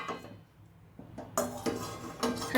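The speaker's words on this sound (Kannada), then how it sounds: "ನಾವು ಇನ್ನೊಂದು ಬೇರೆ ಬಾಣಲೆ ಇಟ್ಕೊಳ್ಳೋಣ" A large frying pan is set down on a kitchen stove while cooking a lady finger curry, giving a few sharp metallic clanks and scrapes in a quiet kitchen.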